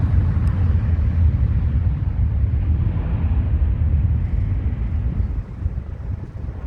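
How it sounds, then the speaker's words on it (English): An Airbus A321 with IAE V2500 engines roars as it takes off down a Heathrow runway: a heavy, steady low rumble that holds loud throughout and eases slightly near the end. "There goes the Finnair A321 with its IAE 2500 engines on it, and it's bombing down the runway."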